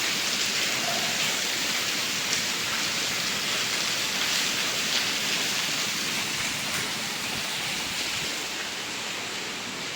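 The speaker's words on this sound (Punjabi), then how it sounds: "ਕਿੰਨਾ ਮੀਂਹ ਪੈ ਰਿਹਾ ਹੈ" Steady heavy rain pours down continuously, a dense hiss with no voices.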